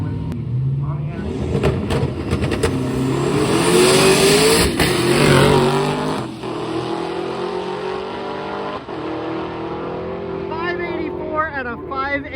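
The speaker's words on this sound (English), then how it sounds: "We have a real good race here. A couple of stick shift cars." Two stick shift race cars speed down a track, engines revving loudly and building to a peak mid-clip before easing off, with crowd and voices underneath.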